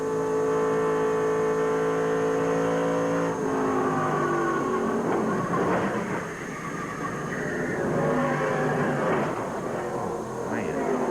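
A NASCAR Busch Series race car engine roars at high revs from inside the cockpit during a 1997 crash, the pitch dropping and surging through a rough, chaotic stretch before steadying again.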